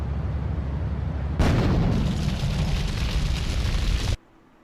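A loud grenade blast in a video game, a sudden heavy roaring boom that sustains for nearly three seconds over a rumbling background before cutting off abruptly.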